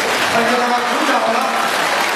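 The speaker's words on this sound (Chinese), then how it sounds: "鼓掌" Steady applause from an audience at a Buddhist gathering in Penang, Malaysia, a dense wash of clapping that holds for the whole moment, with voices mixed in.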